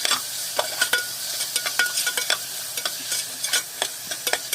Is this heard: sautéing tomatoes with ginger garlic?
yes